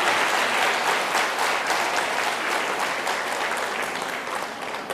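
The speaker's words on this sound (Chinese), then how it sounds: "我们掌声欢迎大顺的后代" A lecture-hall audience breaks into loud, sustained applause, a dense wash of many hands clapping that holds steady for the full five seconds and eases only slightly at the end.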